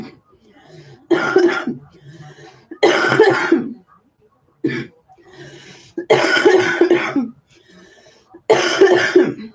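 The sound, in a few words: coughing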